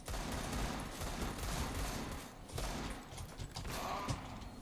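Gunfire in the video game CS:GO comes as rapid bursts of shots. The volleys repeat in clusters with brief gaps between them over a low game background, with no speech.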